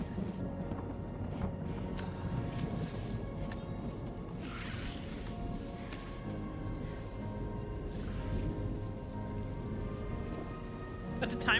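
Timefall rain falls steadily in the video game Death Stranding 2, a soft, continuous patter and hiss that stays even throughout with no voices over it.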